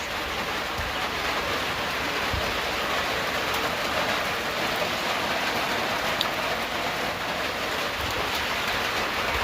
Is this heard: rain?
yes